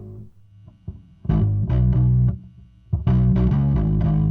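A gritty, distorted bass guitar plays low sustained notes in short bursts, with gaps between phrases; loud and close, no talking.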